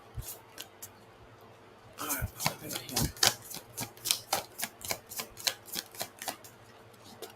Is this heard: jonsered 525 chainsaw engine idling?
no